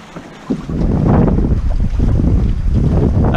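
A Corsair F-27 trimaran sails in strong wind during a race, with loud wind buffeting the microphone and water rushing along the hull, close and continuous, no talk.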